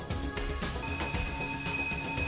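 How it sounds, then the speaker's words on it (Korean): A building fire alarm malfunctions during a safety inspection of a Seoul mixed-use building with a basement sauna, sounding a steady electronic ringing tone that holds loud and continuous throughout, with no voices. "경보기가 제대로 울리는지 검사를 하자마자 오작동이 발생합니다."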